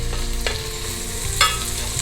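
Tomatoes frying with ginger-garlic paste, onion and green chillies in a pan for channa pulao, a steady close sizzle with a couple of brief scraping stirs.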